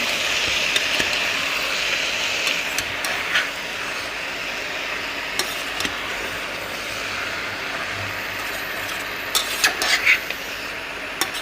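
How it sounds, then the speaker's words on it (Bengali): Mixed vegetables including broccoli, carrot, pea and potato stirred in a pan, with continuous sizzling and repeated scraping strokes close by, no voices. "এবারে এটাকে কষি নাড়িয়ে আটকে দেবো"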